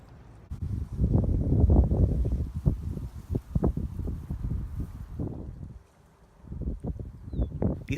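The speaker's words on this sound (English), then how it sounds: "but that wind is absolutely frigid" Cold, frigid wind gusts over the Quinnipiac Marsh area, a close rumbling buffet of low noise that surges and dips unevenly, briefly calming before picking up again.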